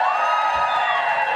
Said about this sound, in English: whatever I say, they cheer.